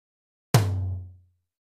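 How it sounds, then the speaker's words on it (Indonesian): A single struck right tom drum in a real drum kit gives one close, resonant hit with a deep tone that decays in under a second. "Kemudian ketuk tom kanan."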